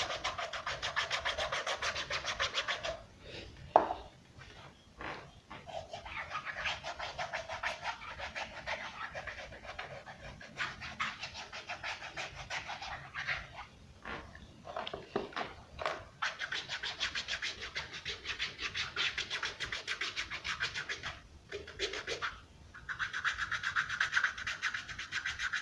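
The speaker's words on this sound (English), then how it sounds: "I'm going to scrape out the dead skin" Dead skin scraped off cracked feet with a hand tool at home: close, steady rasping strokes that repeat in runs with short pauses between them, fairly quiet and heard alone without talk.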